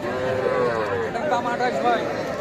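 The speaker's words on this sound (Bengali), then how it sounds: "সামনে দেখছেন ছোট ছোট বাছুর" Young calves at a busy cattle market, with a drawn-out moo rising above constant crowd chatter and people talking nearby.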